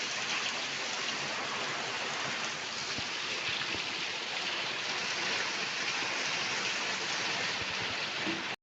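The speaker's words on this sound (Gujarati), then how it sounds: "લિટરલી ભાઈ ફૂલ વરસાદ આવે," Heavy night rain pours down in a dense, constant hiss of water drumming on surfaces, steady and unbroken throughout with no voices.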